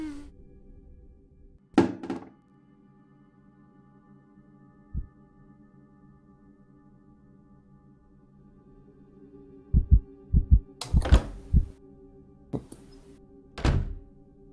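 A heartbeat in the horror video game Soul Hunt gives deep, muffled thumps. A lone thud is followed by a clustered run of heavy beats and then a final isolated thump, spread over a quiet, humming background.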